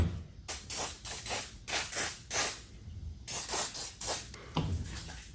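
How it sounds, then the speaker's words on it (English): WD-40 hisses out of an aerosol can in a run of short, close bursts, sprayed onto an airless Gotrax scooter tire during a tire replacement. "I'm gonna lube it up with WD-40."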